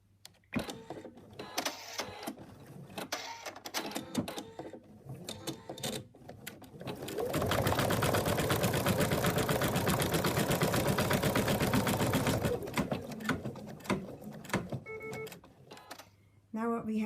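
A home embroidery machine stitches down an ear piece on a stuffed teddy bear design, with a loud, steady, rapid needle buzz running for several seconds between quieter stretches of shorter stitching bursts.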